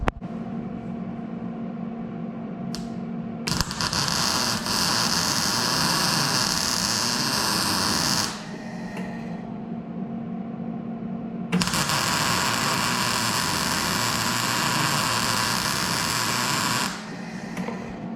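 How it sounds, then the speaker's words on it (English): A welder lays plug welds on a brand new short bed for a 1973-79 Ford truck, two long crackling buzzing bursts separated by a quiet pause, loud and close. "that nice crispy bacon sound is exactly what you're hoping to hear"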